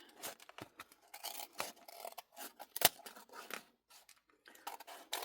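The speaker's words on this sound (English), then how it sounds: "I'm going to open this and trim this edge off." Scissors trimming the edge off a paper bag for an art journal: close, irregular bursts of crisp snipping and rasping cuts separated by short pauses, with no voices.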